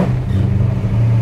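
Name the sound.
car engine revving, tuned Holley Sniper fuel injection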